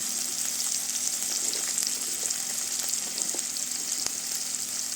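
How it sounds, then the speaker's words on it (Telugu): Pieces of green chili fry in a pan of hot oil for a curry made with eggs, dried fish and drumstick. The sizzle is a steady, close, bright hiss with light crackles, and no one talks over it. "ఇప్పుడు పచ్చిమిరకాయ ముక్కలు వేస్తున్నానండి"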